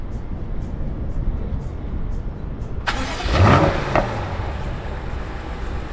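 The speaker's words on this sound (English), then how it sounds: "now the valves are open because we changed the sound of the startup to sporty" A BMW engine fires up with its sporty exhaust valves open, a sudden loud start that swells into a brief rev and then settles into a steady idle.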